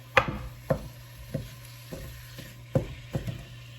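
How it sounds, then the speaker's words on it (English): Sweet Italian sausage crushed into olive oil in a pan gives off a soft, close sizzle, punctuated by several sharp scrapes and stirring knocks at irregular intervals. "You can hear it starting to sizzle, which is the sign that we need."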